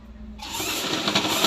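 A sewing machine stitches a pant hem, starting abruptly after a quiet moment and then running as a loud, close, continuous mechanical whir without any talking.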